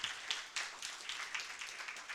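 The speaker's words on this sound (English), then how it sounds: "First applause and then the question." Faint, dense applause from a group after a talk, a continuous patter of many hands clapping at some distance.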